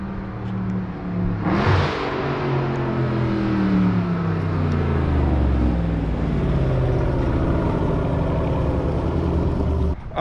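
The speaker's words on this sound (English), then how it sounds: "those are the exhaust clips for both of the cars. Mid muffler delete and catless on here versus a full catback and catless on my 3-inch exhaust" A Dodge Charger or Challenger with a mid-muffler delete and catless exhaust, compared against a full catback, is revved hard. A sharp blip climbs to a loud, raspy roar, then holds a deep, rumbling idle-to-rev drone that stays close and continuous.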